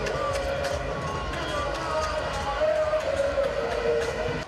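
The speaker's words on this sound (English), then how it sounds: "The crowd's cheers got deafening at the arrival of the president, John Mahama, and his wife, Lodina." A large crowd at a Ghanaian political campaign launch roars and cheers in a steady, loud wash of voices that swells slightly toward the end.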